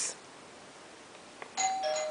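A doorbell chimes near the end, a bright two-tone ring after a quiet stretch, preceded by a short faint tone at the start.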